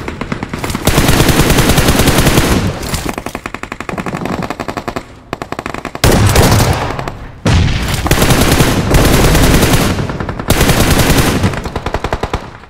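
Loud, close bursts of rapid automatic gunfire in the BGMI battle royale game, sustained volleys broken by short pauses as an enemy squad is taken down.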